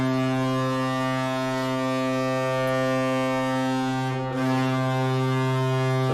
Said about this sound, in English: That may be the best horn we've heard yet.